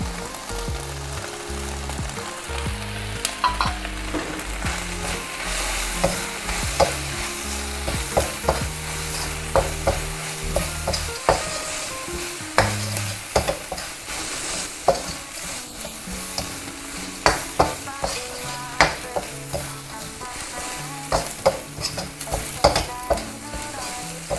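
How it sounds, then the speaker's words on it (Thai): Steady wok stir-frying of a Thai dish with dark soy sauce and holy basil, with chillies: continuous close sizzle broken by frequent sharp scrapes and clacks of the spatula against the pan, loud throughout with no talking. "ผัดให้จนข้างล่างแห้งเลยนะครับ"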